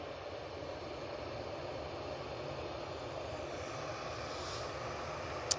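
Engines of an easyJet Airbus A320-200 jet airliner spool up on the runway at Manchester Airport, a steady distant broadband roar without distinct peaks.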